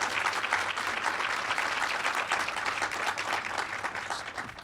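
Audience applauding at a political talk during a democracy festival, a dense, even wash of clapping from a crowd, steady and moderately loud throughout.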